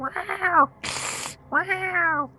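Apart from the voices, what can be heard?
scared cats meowing and hissing, sound effect in a tabletop game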